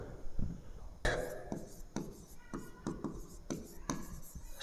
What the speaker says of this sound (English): And simply write